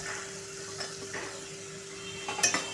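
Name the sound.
sautéing chopped pumpkin with soft tomatoes in a pan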